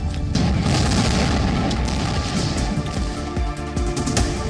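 A heavy explosion from a strike on the Israel-Lebanon border rumbles on as a dense, loud, sustained boom with rolling low-end roar and no speech over it.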